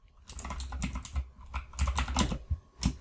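Rapid clattering keystrokes on a computer keyboard as code is typed, coming in quick bursts with short pauses, close and fairly loud with no talking.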